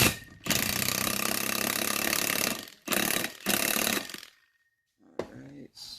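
A big Milwaukee impact wrench drives a socket onto a lug nut, roaring in long loud hammering bursts with short pauses between them, close up, followed by quieter handling clatter.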